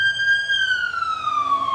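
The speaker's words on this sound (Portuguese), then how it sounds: "agora tá passando polícia ou ambulância" A police car or ambulance siren passes by outdoors, a loud steady wailing tone that slowly drops in pitch as the vehicle moves away.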